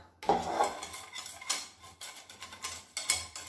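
A whisk clinks and scrapes against a metal saucepan in quick, uneven strokes, beating egg yolk with sweetener, close up, with no talking.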